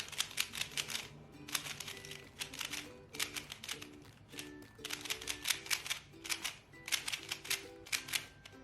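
A black-base MoYu Pyraminx puzzle being turned rapidly, with bursts of sharp plastic clicks and clacks in quick rhythmic runs separated by brief pauses, close up and alone.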